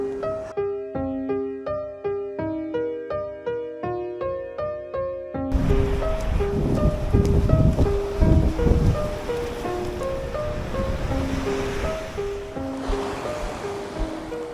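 Sea waves wash ashore on the island of Texel in the Netherlands, a broad steady surf rush rising partway through and continuing loud and close, with a clear melodic tone sounding over it throughout.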